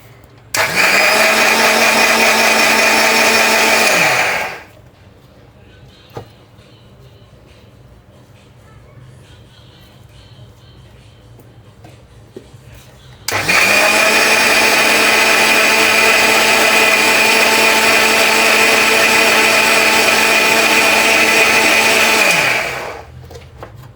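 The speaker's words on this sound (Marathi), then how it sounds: "आता याला दळून घेते." A kitchen mixer grinds soaked lentils for idli batter in two long bursts, a steady loud whine for several seconds, a quiet pause, then a longer second run that stops abruptly.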